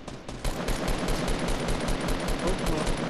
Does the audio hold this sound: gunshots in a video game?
yes